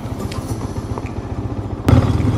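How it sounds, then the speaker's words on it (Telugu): A motorcycle engine idles after a cold start, a steady low rapid putter close by with a slight clatter and a louder rev-like swell near the end, no talk. "బండి కోల్డ్ స్టార్ట్ అయితే ఇంపార్టెంట్."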